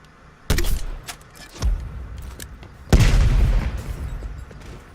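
A spawn tube launched in Black Ops Cold War on the Checkmate map gives a loud, close burst that starts sharply and is followed by a second, shorter thump, then another heavy boom that rumbles on. No one speaks.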